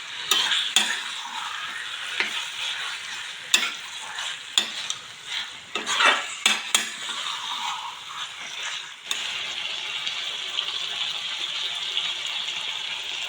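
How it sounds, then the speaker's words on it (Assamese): Local chicken fries with spices in a pan, a continuous soft sizzle broken by repeated scraping stirs of a spatula, with a steadier hiss in the final few seconds. "চিকেনখিনি এড কৰাৰ পিছত মই অকণমান ধুনীয়াকৈ এতিয়া মছলাখিনি লগাকৈ ভাজি ল'ম।"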